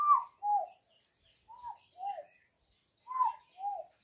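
Doves and other birds sing on a ranch: soft, paired cooing notes repeat in three evenly spaced groups, clear and moderately near, with a faint high background hiss and no talking.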